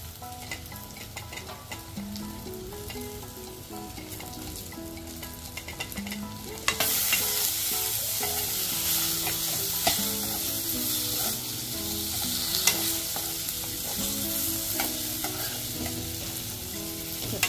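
Ingredients for a village-style double beans gravy sauté in a pan with continuous sizzling and repeated stirring scrapes, close and fairly quiet, growing brighter and hissier partway through as more goes into the pan; no talking.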